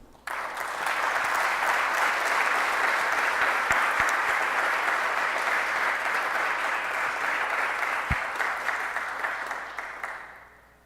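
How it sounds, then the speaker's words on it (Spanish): A conference audience applauds for about ten seconds, with dense, even clapping that starts abruptly, holds steady and then fades out, and with no talking over it. "Un aplauso a Eduardo."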